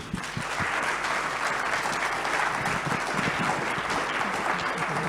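Audience applause after a professor's lecture at a school of management, a steady dense roar of many hands clapping continuously, fairly distant and even throughout.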